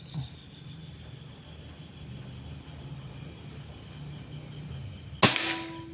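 A steady low drone runs throughout before one sudden, loud Pajerogun Gen 5 air rifle shot near the end, with a short ringing tail after the crack.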